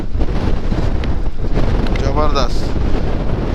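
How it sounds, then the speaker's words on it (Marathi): Strong wind at Lonavala buffets the microphone during a ride on a Himalayan bike, a loud, gusty rumble throughout, with a brief exclamation spoken partway through. "आज लोणावळ्यामध्ये भरपूर वारा सुटलाय."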